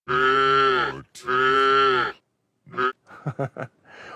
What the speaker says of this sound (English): we can add in, let's say, another cow moo